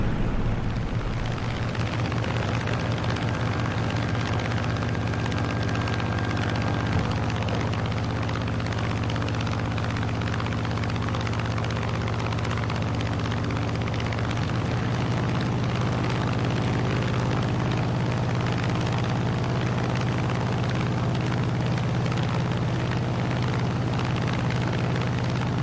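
A Hellcat's piston engine drones loud and continuous through a Microsoft Flight Simulator approach, a steady propeller rumble that shifts pitch slightly partway through.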